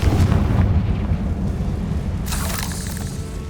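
A Confringo blasting spell from the video game Hogwarts Legacy goes off as a loud, close booming explosion with a deep rumbling roar, then a sharper crackling burst partway through, with no talking.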